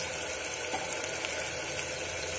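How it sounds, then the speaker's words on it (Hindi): Steady, dense sizzling of spices frying in hot oil for tempering mutton curry, close up and continuous, with no voices. "अब हम इसके अंदर मसाला डालेंगे, तड़का लगाएंगे।"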